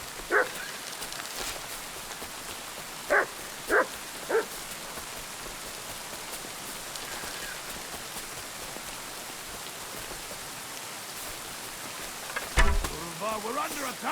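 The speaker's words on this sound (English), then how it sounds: "That dog wants to eat me!" A dog barks in the video game Kingdom Come: Deliverance 2, a few sharp separate barks spaced apart over steady rain noise, with a louder thud and commotion near the end.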